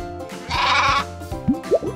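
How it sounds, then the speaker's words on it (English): Sheep bleating in a children's farm-animal quiz: a few short, wavering bleats near the end, close and clear, after a brief burst of rustling noise. "a sheep"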